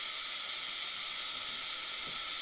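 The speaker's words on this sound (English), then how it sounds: "I just got the meat browned off" Ground beef browning in a pan at a dispersed desert campsite in Arizona, a constant bright hiss of sizzling fat, even and close, with no one speaking.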